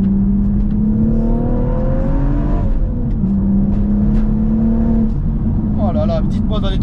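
A BMW M135i with the N55 six-cylinder engine, tuned beyond 400 hp, accelerates hard from inside the car, its rising engine note climbing through gear changes, loud and close, with a person talking over it.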